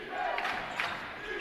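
A college basketball crowd at a Men's HCAC Division III game, Franklin versus Rose-Hulman, roars on its feet in an arena, a sustained muffled swell of cheering with voices mixed in.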